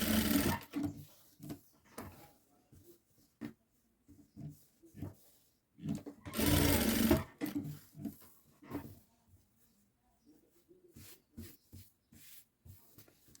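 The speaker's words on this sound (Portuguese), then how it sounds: "Aqui você passa uma costura nessa parte de cima e aqui na lateral pra firmar o bolso" A sewing machine stitches a pocket onto a boy's children's outfit in short, separate bursts of close mechanical whirring, with quiet pauses and handling noises between runs.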